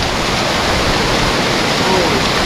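A waterfall in Rocky Mountain National Park rushes loudly and continuously, a close, dense roar of falling water that fills the whole stretch without a break.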